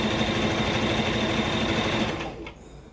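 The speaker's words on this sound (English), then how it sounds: "I'm hoping that now with my sewing machine, I'm able to design different costumes" A sewing machine stitches dress parts in a fast, continuous whirring buzz, loud and close, then winds down and stops near the end; nobody speaks.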